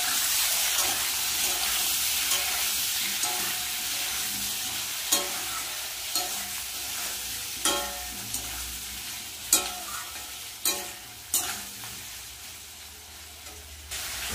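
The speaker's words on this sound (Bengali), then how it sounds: "এবার দিয়ে দেব কেটে রাখা টমেটো" Chopped tomatoes fry in a pan with onions already browned with salt and turmeric, a steady close sizzle with a wet, watery edge and repeated sharp spatula scrapes and clacks growing more frequent toward the end, with no talking.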